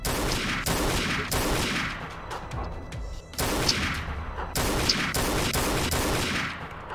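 Rapid gunfire from no-scope shooting in Garry's Mod, repeated bursts of loud, crackling shots in clusters separated by short pauses, with no talk over them.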